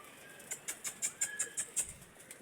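Pigeon in a Pakistani/Punjabi pigeon-keeping setting, a captured rival's bird: a run of about nine soft, evenly spaced calls or flutters over roughly two seconds, close and fairly quiet, with no talk.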